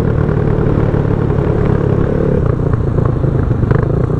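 Suzuki GN400 bobber motorcycle idling with a steady, loud single-cylinder thump and mechanical clatter, close by and continuous throughout.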